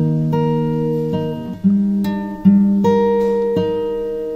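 Acoustic guitar picks a short bar from the verse of a song, several plucked notes and open strings ringing over each other at an even, unhurried pace, close and clear with no talking.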